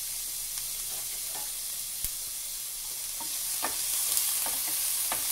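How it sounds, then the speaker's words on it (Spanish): Onion and garlic sizzling in oil for a vegetable sofrito, a soft steady crackle close by with intermittent scraping taps of a stirring utensil, no talk. "la cebolla, el ajo y le vamos a dar su movidita."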